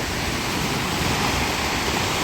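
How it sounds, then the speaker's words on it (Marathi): Sea waves break on the coast in a continuous, loud, hissing rush of surf with no pauses, no voices and no other sounds over it. "काय भारी समुद्र आहे"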